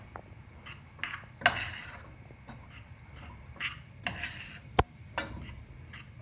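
A utensil scrapes and clinks against a bowl while solid shampoo ingredients, including about twenty drops of liquid, are mixed, with scattered sharp taps and soft rubbing strokes over quiet background.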